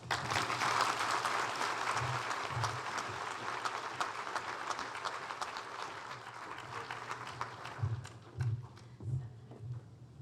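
An audience at an award ceremony gives a round of applause for scholarship recipients: sustained, many-handed clapping that is loud at first and slowly thins and tapers toward the end.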